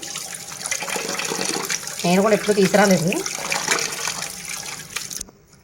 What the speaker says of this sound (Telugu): కడిగేసుకున్న తర్వాత వేడి నీళ్ళతో కడుగుతాను